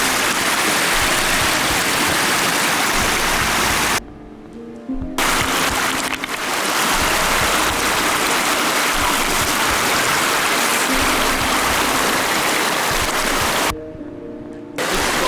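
A fast mountain river on Spitsbergen rushes loudly and steadily, a broad watery roar that drops out briefly twice before returning.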